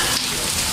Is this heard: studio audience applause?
no